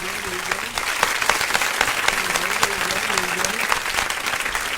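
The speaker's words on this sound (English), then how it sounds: "let me give you official People Before Politics round of applause" A round of applause on a political interview show comes across as a dense, even patter of clapping. A voice talks over it at the same time, and the applause carries on throughout.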